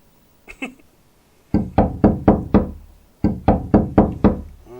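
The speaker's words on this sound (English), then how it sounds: "I hear someone banging on my door." Heavy banging on a door in a video game: two soft knocks, then two loud bursts of five rapid, forceful thumps each, close and booming, separated by a short pause.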